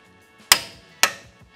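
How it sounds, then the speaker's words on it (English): A torque wrench with a 21 mm socket tightens a keyed security locking lug nut on a Tesla wheel to 129 foot-pounds. It gives two sharp, close metallic clicks about half a second apart, each with a short ringing decay. "with our torque wrench and 21 millimeter socket, we can just put this on here and torque to the factory spec of 129 foot-pounds"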